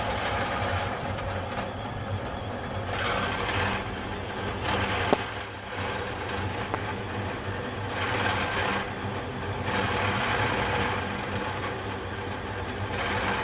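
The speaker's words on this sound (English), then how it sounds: "I'm printing black PETG." A delta 3D printer printing black PETG, its frame built from sheet metal that resonates, gives a steady mechanical whir with stepper-motor tones that rise and fall in regular pulses, loud and continuous with no talk.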